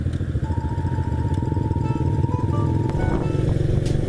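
A friend's motorcycle rumbles along a road, a steady throbbing engine pulse with road and wind noise, heard continuously from close behind with a faint whining tone over it.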